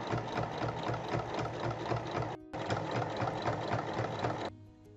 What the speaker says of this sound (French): on fait une surpiqûre sur les 3 côtés, les rabats du haut et les rabats du bas